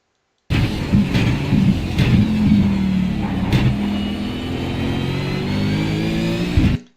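A race car on track at Sebring, braking hard into a right-hand corner and then upshifting from second to third, its engine roaring loudly and steadily close to the mic, pitch rising and dropping with brief shift breaks, no voices.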